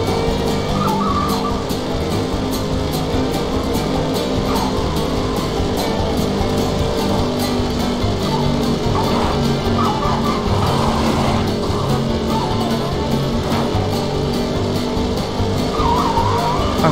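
Power slide skidding in the Cars racing video game on Nintendo GameCube, a continuous engine drone under repeated tire squeals and skids, loud and steady throughout.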